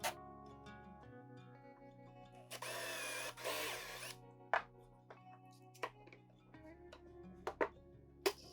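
Power drill driving screws into wood through a pocket hole jig: one sustained whirring burst with a rising pitch, then scattered close knocks and taps of parts and tools.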